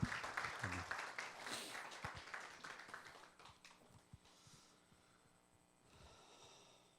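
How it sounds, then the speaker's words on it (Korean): A church congregation applauds, a crowd of clapping hands that starts fairly full and then thins and fades over several seconds, heard quietly and at some distance. "다시 한번 하나님 앞에 영광의 박수 돌리도록 하겠습니다."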